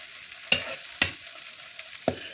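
Eggplant masala gravy sautéing in oil, with three sharp stirring scrapes of a spoon against the pan over a soft, steady sizzle, close and fairly quiet.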